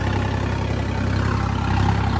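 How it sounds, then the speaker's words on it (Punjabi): A tractor with wide radial rear tyres runs continuously in a field during tillage for mulched potato beds, giving a steady, loud low rumble with an even, throbbing engine note. "ਕੋਈ ਧੂਆ ਨਹੀਂ ਦਿਖਾਉਂਦਾ ਪੂਰਾ ਸੈੱਟ ਟਰੈਕਟਰ ਆ ਪੂਰਾ ਵਧੀਆ ਜ਼ੋਰ ਮਾਰਦਾ"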